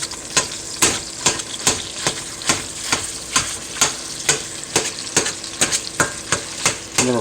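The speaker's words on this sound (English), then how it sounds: "I'm going to fry that up until it's good and cooked" Ground sausage fries in a pan while a sturdy spatula chops and scrapes it into chunks, giving a steady, rhythmic series of sharp scraping hits over a constant sizzle, close and fairly loud.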